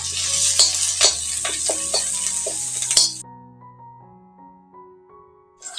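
Crushed garlic and fresh curry leaves crackle in hot oil as a spoon stirs and clinks against the pan. The loud sizzle lasts about three seconds, then cuts to near silence.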